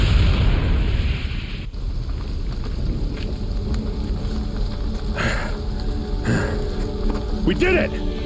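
A booby-trapped bomb goes off in Horizon Zero Dawn, a loud rumbling blast at the start that fades into a sustained roar of debris, with scattered bursts and game voices.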